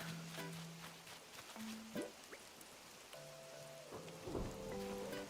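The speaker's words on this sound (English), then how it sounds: "Oh, it's thundering too. It's kind of an intense storm." A thunderstorm inside a cozy life-simulation game, steady rain pattering with low thunder rumbles, while short chiming game tones and soft effects play over the top.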